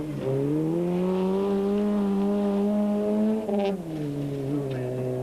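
Rally cars race through a stage of the 2001 Cape Rally, a loud, steady engine drone with smooth revving tones that dip and climb again partway through, close and continuous.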